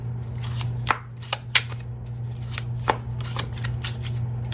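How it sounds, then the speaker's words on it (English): A Pining Rose tarot deck is shuffled by hand, giving a run of soft, brisk card riffles with sharper flicks, close by over a steady low hum. "I'll be pulling from this deck by Calico Moon. It's the Pining Rose Tarot"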